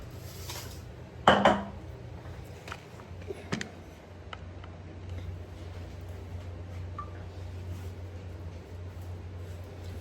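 Eggplant being tossed with olive oil, chopped parsley and garlic in a bowl, heard as a few sharp utensil clinks and knocks against the dish early on, then soft, quiet stirring and shuffling.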